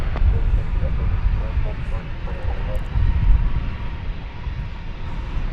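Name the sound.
American Airlines jet taking off at DFW Airport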